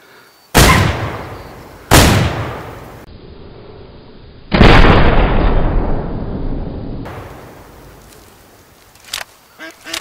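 Shotgun blasts aimed at waterfowl in the hunting video game Way of the Hunter, two sharp close booms a second apart, then a third longer blast with a ringing tail, followed by faint scattered clicks.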